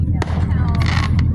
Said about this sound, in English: Fireworks show on 4th of July.